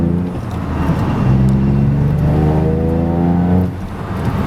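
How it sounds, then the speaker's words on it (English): A Toyota GR Yaris with an XFORCE catback exhaust drones steadily at cruising speed, a low, close rumble with a slight shift in pitch partway through, no talking. "Still got a bit of an exhaust note you can hear"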